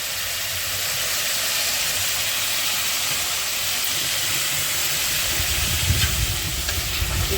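Turmeric, salt and spices being sautéed in a pan, giving a steady, loud broadband sizzle that holds throughout with no pauses and only slight swells in intensity.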